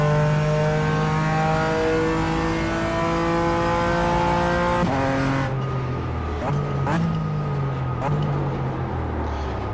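A BMW GT4 race car engine in a racing simulator roars at high revs with a steady harmonic whine, then drops through downshifts with sharp rev changes as the car brakes, loud and close throughout.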